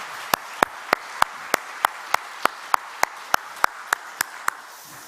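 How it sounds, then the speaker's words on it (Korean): Congregation members at a church service clap together for new members in a crisp, regular rhythm of roughly three claps per second, close and prominent, with no voices over them. "우리 새가족분들을 위해서 우리 한번 박수 한 번만 더 할까요?"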